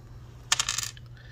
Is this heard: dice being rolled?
yes